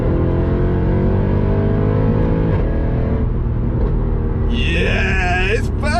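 A Mercedes C63 engine pulls hard on kickdown, a loud steady drone of exhaust and revs under continuous acceleration, with a higher whine and shifting tones rising near the end.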